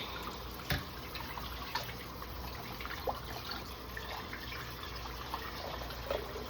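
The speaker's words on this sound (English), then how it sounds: "this pot's getting rinsed" Tap water runs steadily into a pot being rinsed in a backed-up home sink, a soft continuous splash with faint knocks of the pot against the basin, fairly quiet and unbroken by talk.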